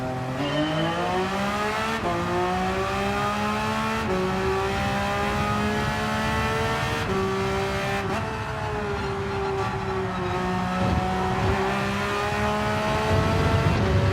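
Race cars in Gran Turismo 7 accelerating off the start of a race, a dense pack of engines revving and shifting up through gears, loud and continuous with occasional tire squeal near the end, no talk.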